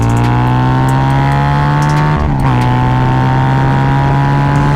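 Harley-Davidson V-Rod Muscle V-twin accelerating hard in a 60 mph roll-on, a loud, close, continuous engine roar rising in pitch, with a brief dip at a gear shift before climbing again.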